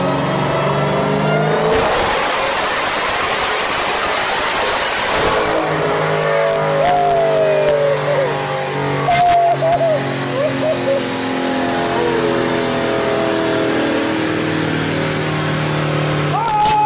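Modified 950-horsepower Dodge Challenger Hellcat on a dyno, its engine droning loudly and steadily under load with gear-shift pitch changes and bursts of noise, someone talking over it throughout.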